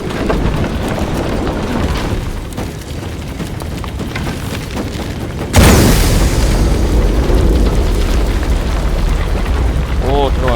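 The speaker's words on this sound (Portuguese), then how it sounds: "Outra explosão iria erguer a plataforma." Shadow of the Tomb Raider gameplay: a sudden loud boom erupts midway through rumbling ambience and leaves a heavy, sustained roar afterward, with a voice speaking faintly beneath.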